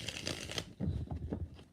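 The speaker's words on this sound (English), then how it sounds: "3 shuffles." Tarot cards being shuffled by hand, a quick riffle followed by softer card slaps and shuffling, close and brief with no speech.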